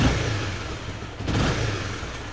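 A 2013 Honda CBR250R motorcycle engine is blipped up to about 3,000–4,000 rpm, a short, close, buzzing rev that dips and rises again over a rough running engine.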